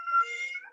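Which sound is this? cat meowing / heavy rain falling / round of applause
cat meowing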